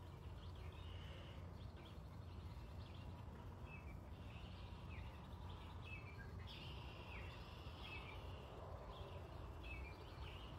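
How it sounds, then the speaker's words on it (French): Red-winged blackbird calling outdoors, faint and distant, with several short chirps and trilled calls scattered over a quiet low background rumble. "Est-ce que la carouge à épaulettes est un oiseau qui peut amener un sentiment de paix"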